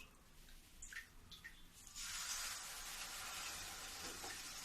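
Water poured into sugar in a frying pan while making sesame barfi, a few faint drips and small splashes followed by a steady soft pouring hiss that lasts to the end.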